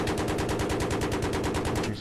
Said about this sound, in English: How about a little cannon fire for your afternoon,